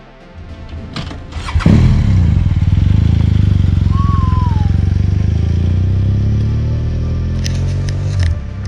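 Motorbikes running near a trail parking area, a loud engine rumble that rises sharply and then holds steady and close for several seconds, with a brief chirp on top and a clattering burst near the end.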